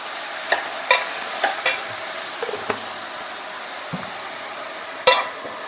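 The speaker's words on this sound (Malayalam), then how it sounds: "ഇനി ഇതൊന്ന് ഇളക്കി കൊടുക്കാം" Vegetables for vegetable pulao frying in coconut oil in a pan, with a steady close sizzle and several sharp scrapes and clinks from a stirring utensil at irregular intervals.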